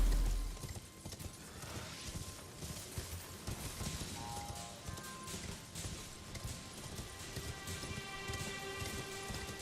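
Rhythmic hoofbeats of a horse galloping in the video game Elden Ring, a steady pattering clip-clop held at moderate loudness with no break across the stretch.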